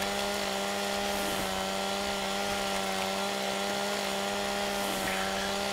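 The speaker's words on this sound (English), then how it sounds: "Let's do a little delimbing." Chainsaw delimbing logs in Farming Simulator 2017, a steady buzzing motor drone running without a break, fairly faint under broadband noise.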